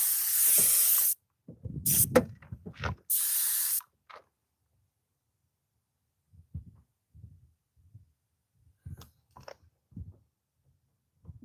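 Air-compressor sprayer set around 40 PSI misting product onto a car, three loud hissing bursts up close, followed by quiet rubbing and handling noises.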